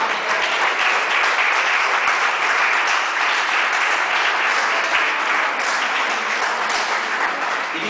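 Sustained congregational applause fills a church service for the Lord, a steady dense wash of clapping from many hands that holds evenly throughout with no speech over it.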